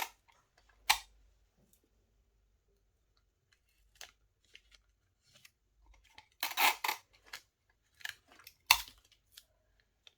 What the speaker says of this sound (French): On va venir mettre du scotch pour fermer